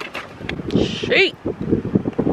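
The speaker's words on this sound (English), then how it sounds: "Oh my God, this wind." Gusty wind buffets the microphone in rough, uneven bursts, loud and close, with a person talking over it.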